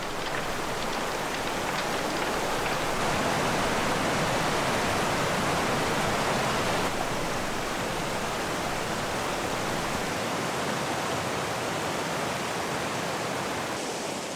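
A swollen, flooding river rushes through the Tatra Mountains after heavy rain. It makes a dense, steady roar of churning water, close and loud, unbroken for the whole stretch, with no voices.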